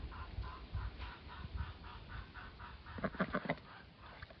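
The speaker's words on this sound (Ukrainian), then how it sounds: "Качка запрошує качура до кохання, ну він ніяк не реагує" Domestic duck on a Ukrainian village farmstead calling to a drake, a repeated series of nasal quacks at a steady rhythm, moderately close, ending in a quicker burst of calls over faint outdoor background.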